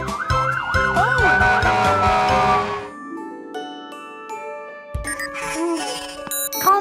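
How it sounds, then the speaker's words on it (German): A cartoon truck siren wails loudly with a rising and falling tone over busy background music, then breaks off into tonal music before a brief return of chirpy sounds. "Vielleicht funktioniert das auch mit der Sirene. Das ist ein lautes Tatütata."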